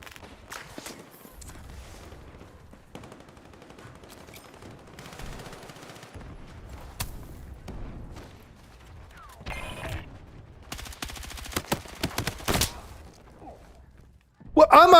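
Gunfire from Helldivers 2, mostly faint clicky bursts and mechanical rattles spread through the clip, with a loud burst near the end and a voice speaking over parts of it.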